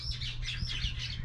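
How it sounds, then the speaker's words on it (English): Mynah birds squawking outdoors, a quick run of harsh, rising chattering calls repeating several times in a row, moderately close, over a low background hum. "that's the minor birds outside"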